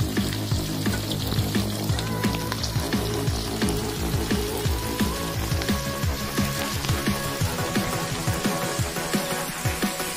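Onions sizzle and crackle in a pan for vegetable biryani, giving a dense, continuous frying hiss with frequent small pops, steady and close throughout with no speech.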